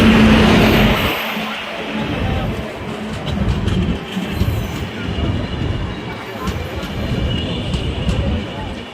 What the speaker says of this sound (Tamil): இதுதான் நம்ம ட்ரெயின் யஸ்வந்த்பூர் லக்னோ எக்ஸ்பிரஸ்.